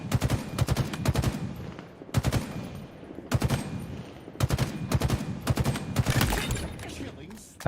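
Battle rifle in Halo Infinite firing in sharp, loud multi-shot bursts separated by short pauses, close and punchy, with a voice talking faintly between bursts.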